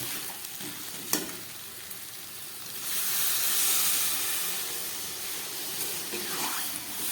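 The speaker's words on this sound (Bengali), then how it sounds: "এবার আমি দিয়ে দিচ্ছি জল।" Chicken frying in oil in a pan crackles steadily, then water poured into the hot meat swells the sizzle into a louder, hissing surge that slowly settles back.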